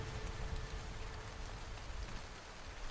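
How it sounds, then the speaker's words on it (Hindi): Heavy rain pours down in a steady, dense hiss with no pauses, fairly soft in level. "थोड़ी देर में बारिश और भी तेज हो जाती है"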